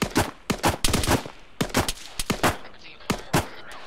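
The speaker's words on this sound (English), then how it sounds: "Mortar fired, mortar." Rapid bursts of gunfire crack in a video game battle in Arma 3, loud repeated volleys and single shots in quick succession, with a mortar round among them.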